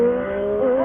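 A Triumph Daytona 675R motorcycle engine revs loud and close during a wheelie, a brief, sustained high-pitched drone whose pitch rises slightly toward the end.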